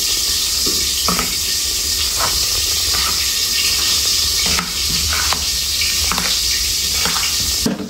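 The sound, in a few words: stirring and mixing banana kofta ingredients with spices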